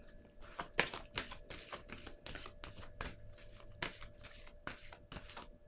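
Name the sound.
shuffling a deck of cards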